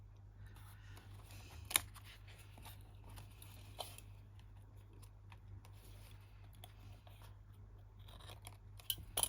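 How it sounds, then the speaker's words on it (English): Scissors snip paper for a herringbone quilted card, sparse, sharp little cuts scattered over a low steady hum, close and fairly quiet, with no one speaking. "Cut it straight, Janice."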